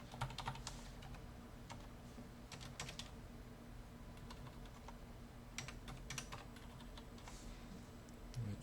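Computer keyboard typing while entering basic applicant details into an online high school application form, with quick irregular clusters of keystrokes close up and steady, fairly quiet over a low background hum, no one speaking.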